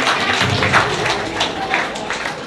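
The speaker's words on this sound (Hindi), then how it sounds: "तालियां मारकर स्वागत कीजिए" An audience at an SC community gathering claps steadily to welcome a speaker, a dense continuous patter of many hands at moderate volume, with faint crowd murmur underneath.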